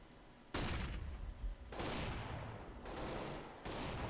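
Gunfire in the video game Counter-Strike on the map Cache during a tournament match: four sudden loud bursts of rapid shots, each cutting in sharply and ringing out before the next, with no talking.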